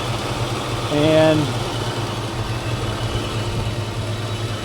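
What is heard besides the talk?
car engine idling with new radiator fan shroud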